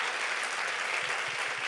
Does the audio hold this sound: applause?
yes